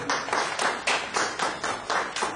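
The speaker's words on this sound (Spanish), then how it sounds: "Le damos un aplauso también." Steady rhythmic clapping at a baptism, about four claps per second, blurring together like a group clapping in unison, with no voices.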